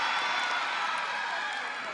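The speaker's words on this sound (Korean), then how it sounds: "산타 할아버지가 등장해 마술을 보여주자 아이들은 신나게 박수를 치며 좋아합니다." Children clapping and cheering at a Christmas event where Santa performs a magic show, a dense, steady wash of crowd applause filling the whole stretch.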